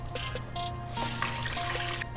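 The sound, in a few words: pouring water into a pot for coconut milk rice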